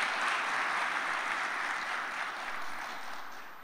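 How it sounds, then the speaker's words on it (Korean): A church congregation claps together in a sustained round of applause that holds steady and eases off slightly toward the end. "크게 박수 한번 쳐주십시오."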